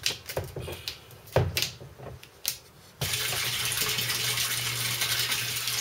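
An aquaponics pump starts back up after cleaning, sending water through the recirculation line of a barrel system. Irregular knocks and splashes give way to a steady, close rush of flowing water.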